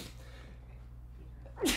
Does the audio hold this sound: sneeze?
yes